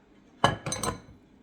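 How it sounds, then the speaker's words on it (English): A utensil scrapes the bottom of a bowl of banana muffin batter, giving a few short, close metallic clinks and scrapes in quick succession, alone and fairly quiet. "I'm really scraping down to the bottom here."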